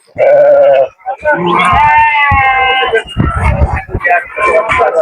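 Hisor sheep bleat loudly and close by at a sheep market, several wavering calls in a row, with farm noise and a voice in the background.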